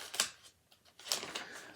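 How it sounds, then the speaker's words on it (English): Paper pages are turned by hand between readings of college basketball scores, giving two soft rustling flips about a second apart, close and fairly quiet, with no speech over them. "Get my pages turned here."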